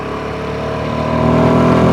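A Royal Enfield Himalayan 450 motorcycle engine revs up, a loud, close, steady mechanical drone that climbs in intensity toward the end before cutting off.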